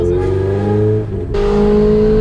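A Honda Civic with a swapped engine hums loudly and close by, dips briefly, then rises again into a rougher, harsher rev under light throttle. No voices are heard.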